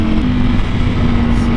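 A Ducati Panigale V4R motorcycle fitted with an Akrapovic exhaust and a quick shifter, heard on a test ride in race mode as a loud, steady engine roar with a strong low hum held throughout.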